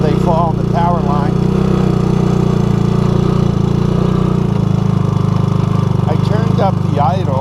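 A 1984 Honda ATC200S three-wheeler engine idles steadily with a low, constant drone throughout, close and loud, while someone talks over it at the start and end.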